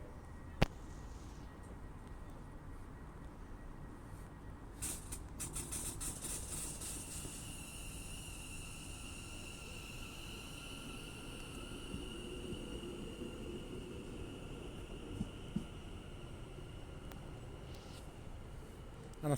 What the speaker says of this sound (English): And the 730s are now departing.